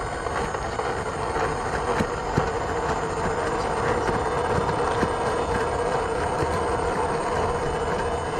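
The drivetrain of an extremely powerful RC car pulls a 10,000-pound full-size car, producing a continuous high-pitched electric whine with steady mechanical grinding that stays even throughout, with no voices.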